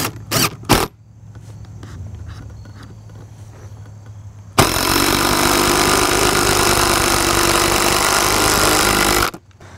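A couple of sharp clicks, then a quiet hum, then a loud power drill whirs steadily for about five seconds, driving a screw at an angle into a wooden raised-bed board, before cutting off abruptly.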